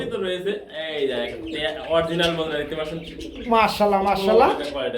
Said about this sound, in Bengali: কবুতর রয়েছে